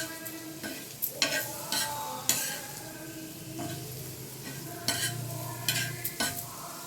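Paneer frying with chili powder and salt sizzles steadily in a pan while a utensil scrapes and taps against the metal in irregular strokes, close and fairly quiet.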